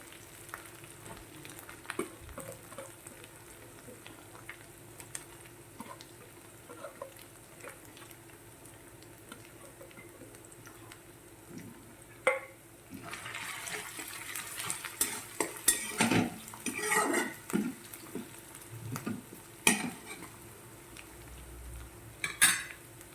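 Garlic frying in a pan for green pea curry over a low flame, with a soft steady sizzle and occasional spoon scrapes and stirring clatter that grow busier halfway through, and no voices.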